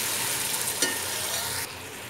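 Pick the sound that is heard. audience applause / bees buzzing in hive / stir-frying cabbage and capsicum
stir-frying cabbage and capsicum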